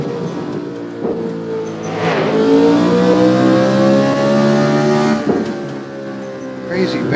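A car on the Nardo track at sunset accelerates hard, its engine note rising through two gear changes in a loud, close run while a person talks over it.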